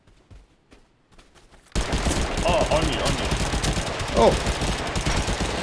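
Rapid video game gunfire erupts after a quiet start, a loud sustained burst of automatic shots continuing to the end, with players shouting over it.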